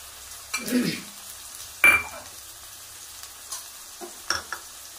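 Onion, ginger-garlic paste and finely chopped capsicum are sautéed in a pan for soyabean noodles, with scattered close scrapes and clinks of stirring over a faint, low sizzle and no speech.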